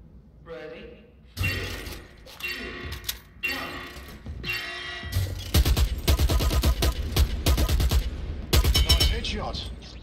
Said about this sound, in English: Shoot as many as you can before I call stop